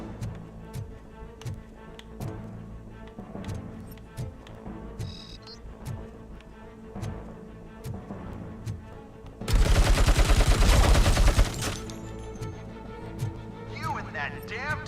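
Machine gun fire in the video game Robocop: Rogue City comes as a loud, dense burst of roughly two seconds, surrounded by rhythmic in-game footsteps and other game noises, with brief talk nearby.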